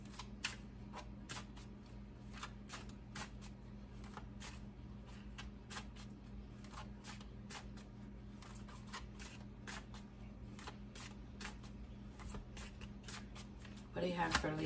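Tarot cards being shuffled in a quiet room, a steady run of soft riffling, slapping flicks across the whole stretch, ending in a louder burst of handling near the close.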